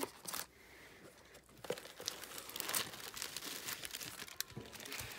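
Tissue paper crinkles and rustles softly and close by while Valentine's Day mail is unwrapped, with irregular crumpling bursts and a brief tearing sound and no voices.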